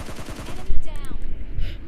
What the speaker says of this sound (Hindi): मैं चेक कर रहा होता हूँ कि भाई कहाँ से आ रहा है गन साउंड।